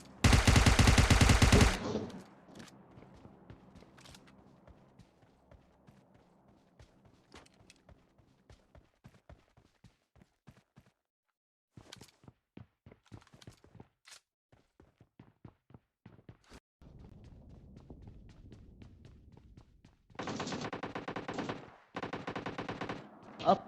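Gunfire from a squad battle royale video game, with an AKM in use: a loud burst of automatic fire opens, scattered single shots and footsteps follow, then two more dense bursts near the end.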